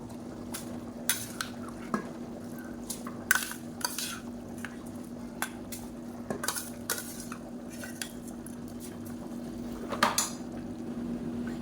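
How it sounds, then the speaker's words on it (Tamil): Half a kilo of soaked jeera samba rice is stirred into a mutton biryani pot, with repeated metal ladle scrapes and clinks against the vessel over a low steady simmer, close and clear. "இப்போ அரிசி போட்டு கலந்தாச்சு."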